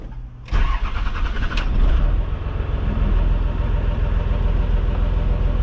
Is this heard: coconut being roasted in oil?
no